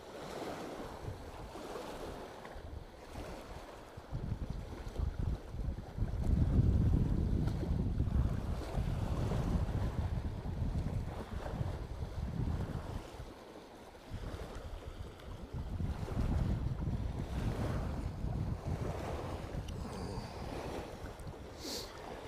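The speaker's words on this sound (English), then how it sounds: "I think it's actually getting windier out here." Wind gusts over choppy water on Grapevine Lake as heard aboard a boat, a steady rushing roar with waves slapping and microphone buffeting that swells and eases through the stretch, with no one speaking.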